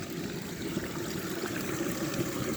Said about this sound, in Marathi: या नाल्यातून पाणी वाहत येत आहे.